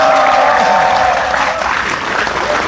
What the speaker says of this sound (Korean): 큰 박수 함성을